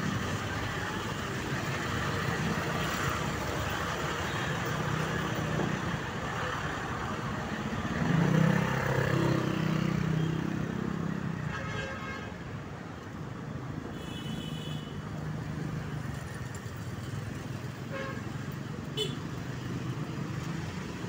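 Dense, steady roar of heavy city traffic in Manila, cars, buses and motorcycles crowding the road, a continuous close engine rumble with a brief low horn-like tone midway.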